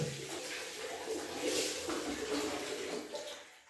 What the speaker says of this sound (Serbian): tako izgleda kupanje, tuširanje sa 2 kofe vode